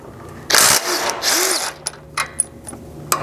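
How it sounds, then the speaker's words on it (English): A 17mm socket ratchet clicks as it removes the factory recovery hooks from a GX 550 front end, giving a few short close metallic ratcheting bursts followed by scattered light clinks. "you can grab a 17mm socket and get both of these factory recovery hooks off"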